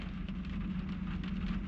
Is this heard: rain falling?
yes